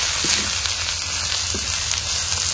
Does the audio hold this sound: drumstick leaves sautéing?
yes